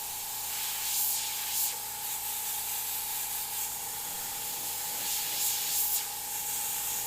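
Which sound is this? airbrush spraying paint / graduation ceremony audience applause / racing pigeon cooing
airbrush spraying paint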